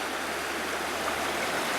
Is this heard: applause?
no